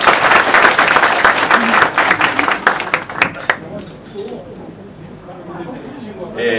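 Audience applause for an organizer at the opening of a class reunion with former teachers: a full, dense round of clapping for about three seconds that thins out into quieter room murmur.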